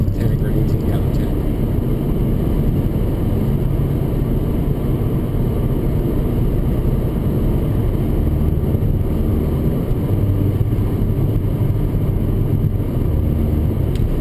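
A Mercedes GLA 45 AMG cruises on the highway in 7th gear at about 1,500 RPM. Inside the cabin, a steady, even drone of low engine and road rumble holds throughout.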